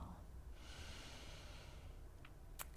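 A deep inhale drawn through the nose during a yoga downward dog, a steady airy breath of about two seconds over a low room hum, ending with a couple of short sharp sniffs.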